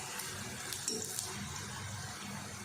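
Pieces of namak pare dough sizzle steadily in hot oil, a continuous close, moderately loud frying hiss with small crackles and no talking.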